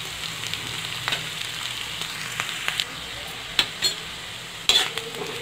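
Pumpkin peels fry in oil in a pan with a steady crackling sizzle, punctuated by a few sharp clinks and scrapes of a utensil stirring.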